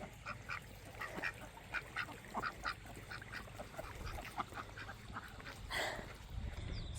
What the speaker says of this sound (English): He's a mallard.